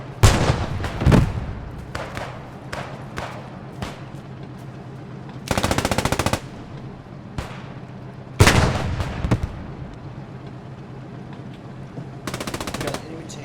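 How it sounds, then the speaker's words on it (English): Gunfire at a military training exercise, with loud, near bursts of rapid automatic fire and single heavy shots echoing across open ground, spread over about thirteen seconds. "Watch out, there's also an anti-tank gun."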